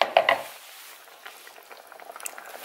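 Shrimp simmering uncovered in a pan of yellow cherry tomato sauce, bubbling and sizzling close up, with a brief louder burst of spatter at the start before settling into a steady, soft crackle.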